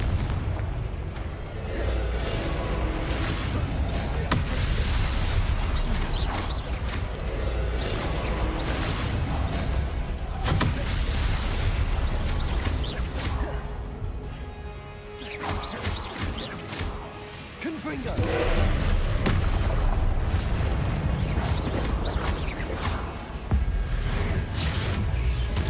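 Confringo spell explosions in the video game Hogwarts Legacy: a dense, loud barrage of blasts and crashes runs almost throughout, easing briefly in the middle before surging again.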